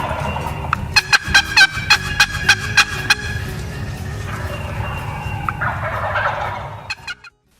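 A wild turkey gobbles outdoors in the woods, a rapid rattling run of sharp bursts followed by a softer, trailing warble that fades out at the end.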